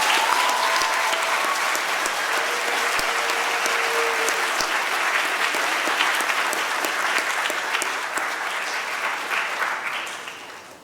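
An audience at a school awards ceremony applauds a student economics team, a dense, loud wash of clapping that holds steady for about ten seconds before tapering off.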